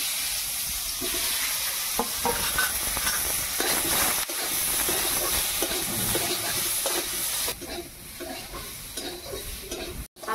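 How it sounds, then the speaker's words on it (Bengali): Whole potatoes fry in hot mustard oil in a wok, giving a steady, close sizzle and hiss with occasional stirring scrapes throughout. "ওই তেলেই আমি আলু গোটাকে ভেজে নেব"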